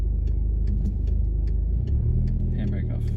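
A manual car's engine revs inside the car, a mid-pitched drone swelling and settling under a speaking voice, with a few ticking clicks throughout.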